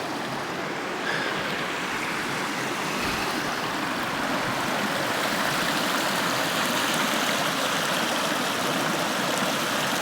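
Stream water rushes steadily through Margaret Falls canyon near Tappen, British Columbia, a loud, continuous broadband roar with no breaks and no voices.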